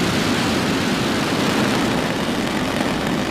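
SpaceX Falcon 9 rocket lifting off, a continuous broad roaring rumble, loud and steady with no pauses and no voices.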